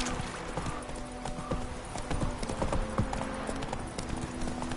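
Roach the horse gallops in a PS4 video game, with a fast, steady clip-clop of hooves under a constant game soundscape, close and fairly loud.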